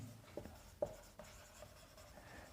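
Chalk or marker writing on a board during a chemistry lesson: a few faint scratchy strokes and taps in a quiet room, with one sharper tap in the first second.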